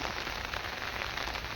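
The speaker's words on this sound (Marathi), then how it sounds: "4 दिवस झाले कंटिन्यू पाऊस आहे, 4 दिवस कंप्लीट" Continuous heavy rain during days of nonstop downpour, a dense, even hiss of drops pounding surfaces close by, unbroken and without voices.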